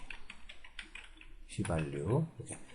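Computer keyboard typing during a Korean spreadsheet lesson, heard as a few soft, quick key taps at the start, followed by a voice speaking over the later part.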